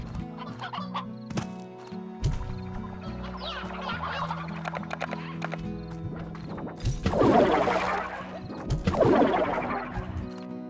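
Chickens cluck and squawk in the Slime Rancher video game, a busy mix of fowl calls and clattering game sounds, louder bursts of flapping and squawking near the end.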